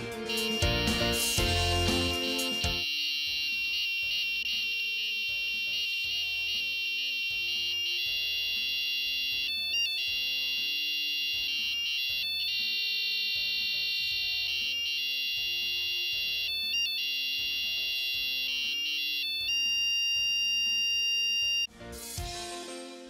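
Arduino-driven piezo buzzer beeping out the Knight Rider theme as a run of steady electronic tones with brief gaps, loud and alone, opening with a short burst of clicks and ending abruptly.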